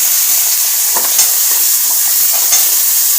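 Chopped potatoes dropped into fried spice paste and hot oil, a bright continuous sizzle with a couple of sharper crackles, loud and close.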